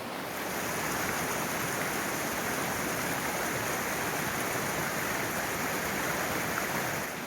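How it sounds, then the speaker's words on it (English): A small stream of water flowing around icicles beneath a rock in wintry Norway, a steady, dense rushing wash heard close and continuous throughout, with no voices. "I'm not sure how loud that water is on this microphone"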